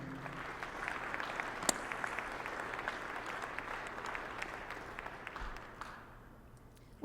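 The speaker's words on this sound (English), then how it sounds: "Please give them a round of applause." Audience applause at a county government address, a steady, fairly distant patter of many hands with a few sharper individual claps, tapering off near the end.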